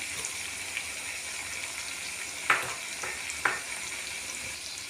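Mutton with drumstick pods sizzles steadily in a handi as chopped green chillies go in, a constant hiss of frying with a couple of sharp sputters and light stirring.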